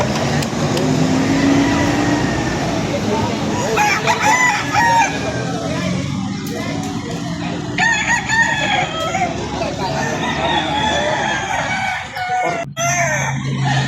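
A rooster crows loudly several times nearby at a chicken seller's in Lipa City, Batangas, with other fowl, passing traffic, and voices in the background.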